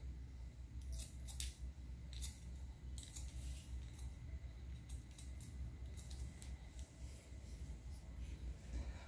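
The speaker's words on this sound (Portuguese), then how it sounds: "Agora estou fazendo os encaixes com a tesoura desfiadeira." Thinning scissors snipping through curly, coarse hair during a haircut, giving soft, irregular crisp snips close by over a steady low background hum, with no talking.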